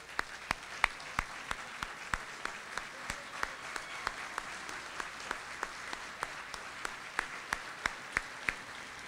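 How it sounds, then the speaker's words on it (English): Scattered applause at a senior sports banquet: a few distinct sharp claps repeat at a fairly even rhythm over a quiet room, faint and close, with murmured voices low in the background. "please stand so we can thank you with a round of applause."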